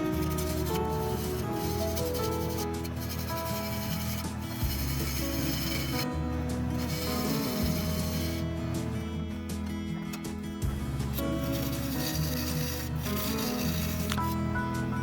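Someone rubs and scrapes the bottom of an elm wood yarn bowl to reshape it, producing continuous gritty friction with rhythmic pulsing strokes and brief pauses, close and fairly loud, with no talking.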